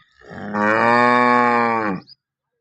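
A single long, loud moo from a newly arrived Aariya cow close by, rich and steady for about a second and a half, then silence.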